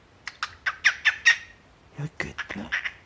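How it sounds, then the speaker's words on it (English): A pet bird squawks in a quick run of about five loud, harsh calls close by, then a short pause and another burst of squawks. "You're a good bird."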